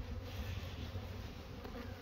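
A few agitated honeybees fly close around a beekeeper at a spring apiary near rapeseed fields, giving a continuous near buzzing drone with no talk.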